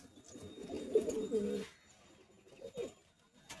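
A pair of tippler pigeons cooing close by, a soft throaty coo lasting over a second followed by a shorter second coo, in an otherwise quiet setting.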